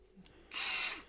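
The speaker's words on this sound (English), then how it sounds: "all we're really doing is wallowing out the drill head enough so that the pin pops out of the speaker" A power drill bores out the pin on a speaker, a brief soft click followed by a steady high whine that starts abruptly halfway through, close and fairly quiet.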